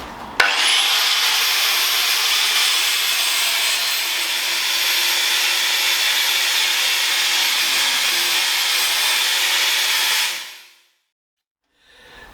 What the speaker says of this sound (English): what we're going to do next is flat this back to steel